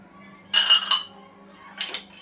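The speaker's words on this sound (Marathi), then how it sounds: "आता आपण शेंगदाणे भाजायला घेऊया गॅसची फ्लेम आपल्याला स्लो करून मीडियम ठेवायचे आणि शेंगदाणे आपल्याला भाजून घ्यायचे" Peanuts dry-roasting in a pan over a medium gas flame, for a garlic and coconut dry chutney, rattle and clink against the metal in two short bursts over a quiet background.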